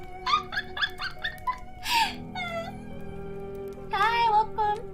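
A dog whimpering and whining in a run of short, high, nasal cries, then a longer wavering whine and a final cluster of squeaky whimpers, fairly close and alone without talk.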